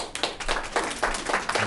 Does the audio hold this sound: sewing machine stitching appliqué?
no